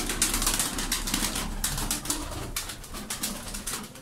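A flock of about twenty tumbler pigeons coos in a steady, overlapping murmur, with some faint rustling of wings, fairly close and continuous.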